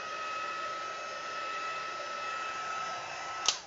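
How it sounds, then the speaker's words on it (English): A heat tool blows hot air over watercolour on a card, a steady whirring roar held for several seconds, ending with a brief sharp click as it switches off. "I'm going to give it a blast with the heat tool just to make sure that that watercolour is dry."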